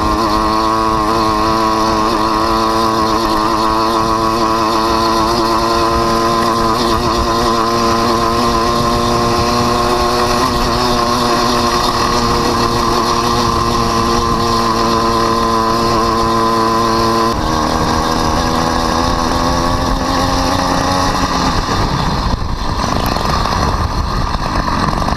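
A two-stroke engine fitted to a bicycle screams loud and close at high revs, its steady buzzing whine holding then dropping in pitch near the end.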